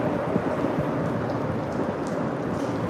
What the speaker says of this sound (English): I don't think the rain is gonna stop before noon.